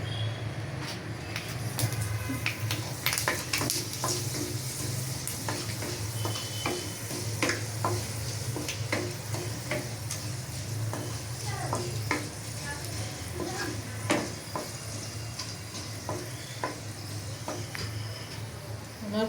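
Fenugreek seeds crackle and sizzle in hot oil in a home kitchen pan, with steady frying hiss, scattered sharp pops and occasional stirring scrapes, close and continuous, with faint talk in the background.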